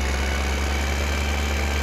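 A tractor engine from Farming Simulator 15 runs steadily, a loud continuous low idle drone with no talk over it.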